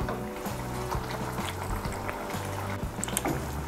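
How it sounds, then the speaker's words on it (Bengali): Cauliflower kofta curry bubbles and simmers softly in a pan while being stirred, with gentle low scraping and a steady quiet gurgle throughout. "কোপ্তাগুলো দিয়ে একটু নাড়াচাড়া করে নিয়ে"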